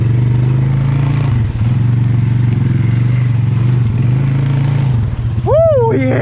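A Polaris Sportsman 570 ATV in two-wheel drive through a swamp, its engine droning loud and steady up close with brief dips, then a voice breaks in near the end.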